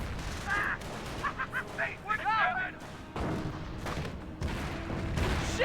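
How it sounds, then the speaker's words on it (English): Mortar strikes and gunfire in the World War II strategy game Company of Heroes, with bursts of rifle and machine-gun fire, booming impacts and sharp whistling shells under a commentator's talk. "Ooh, good mortar hit there."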